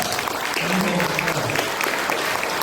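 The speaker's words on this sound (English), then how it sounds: "Let's hear the applause." Steady applause fills the clip, dense clapping from a crowd, with a voice briefly speaking underneath.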